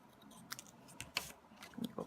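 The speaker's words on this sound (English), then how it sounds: "Let me cut this off here." Scissors snipping through paper for a craft card, a few quick close crisp cuts in a quiet room.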